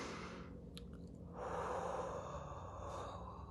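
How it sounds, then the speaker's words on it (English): A single slow, deep breath drawn in and let out close to the microphone, a soft airy rush that swells midway and then fades, with no talking. "take a deep breath"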